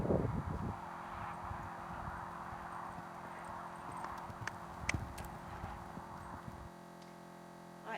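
Hooves clip-clop steadily during riding practice in a jumping and balance riding course, an even rhythmic beat heard from close by over a soft outdoor background.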